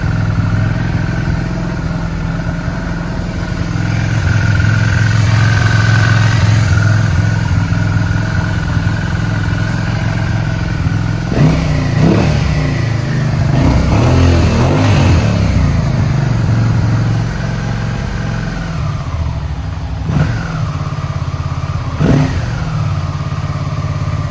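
Suzuki SV650 motorcycle engine under restoration, running rough and loud close by with a continuous uneven idle, several blips of revving and brief dips in the middle and toward the end, with no talking.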